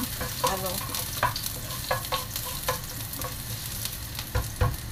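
Ginger sautéing in a hot pan, a steady close sizzle broken by repeated scraping stirs at an even rhythm, with no talking.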